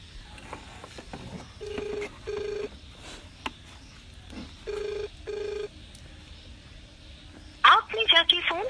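A mobile phone call rings out with repeated paired ringback tones, followed by a louder burst near the end, while voices talk faintly over the line.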